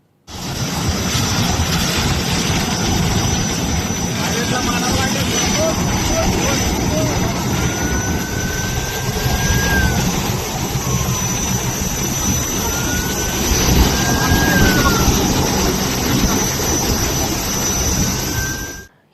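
A jet airplane in flight roars loudly and steadily at close range for the whole stretch, with faint higher tones drifting through the drone.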